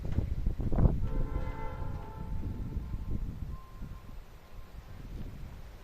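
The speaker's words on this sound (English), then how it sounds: "This is train line in all of District New South Wales here today behind us" A train rolls past on a line beside a suburban New South Wales cricket ground, a low steady rumble with a distant horn-like tone sounding briefly early on.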